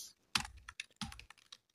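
Computer keyboard keys tapped in a few quick bursts with brief pauses, close and clear, while a web address is typed into a browser bar.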